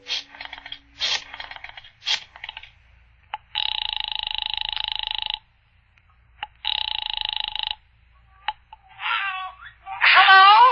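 An old-fashioned telephone bell rings in two long bursts with a pause between, crisp and close, as a radio drama sound effect, with brief clicks before and a voice starting at the end.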